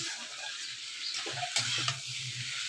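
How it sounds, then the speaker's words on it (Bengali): Vegetables with salt and turmeric fry over a high gas flame, a steady quiet sizzle broken by a few sharp clinks and scrapes of stirring near the middle. "এবার এই সবজিটাকে বেশ একটু ভাজা হতে রেখে দেব"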